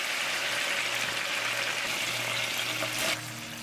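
Pork pieces frying in a pan until golden at the edges, a dense continuous sizzle that stays loud throughout and eases slightly near the end, with no talking.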